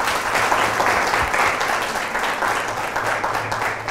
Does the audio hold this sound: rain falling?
no